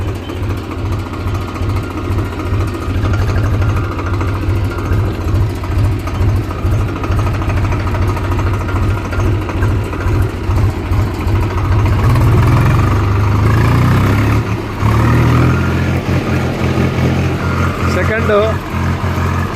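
A vehicle engine drones steadily in second gear with a deep, throbbing low hum and slight surges in pitch, while someone talks over it throughout.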